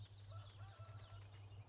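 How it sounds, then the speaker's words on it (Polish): Hens cluck softly at a moderate distance on an old farm, short throaty calls repeating irregularly over a low steady hum. "Tutaj słyszymy gdzieś kury w pobliżu"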